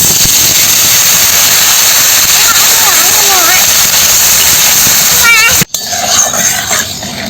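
Water goes into a hot pan of spiced potatoes cooking on a village stove, setting off a loud, close, continuous sizzling hiss that breaks sharply near the end and then carries on more unevenly.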